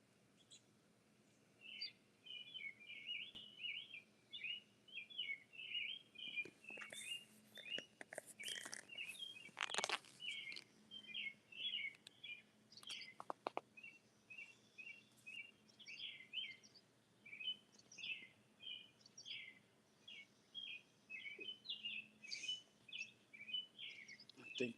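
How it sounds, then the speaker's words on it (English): Mockingbird chirps and trills repeat steadily for a long stretch, fairly faint and distant, mixed with occasional nearby crunching and rustling noises. "You don't hear no other birds but the mockingbirds."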